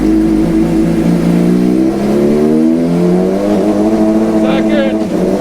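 A Suzuki GSX-R 600 motorcycle with a Heal Tech quick shifter revs loudly and close, its engine pitch climbing and briefly dipping at each rapid upshift, with a voice audible over it.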